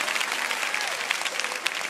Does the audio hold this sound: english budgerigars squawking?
no